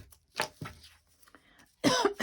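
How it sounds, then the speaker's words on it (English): A person coughs in a few short bursts, with quiet pauses between, close to the microphone and fairly loud. "excuse the coughing"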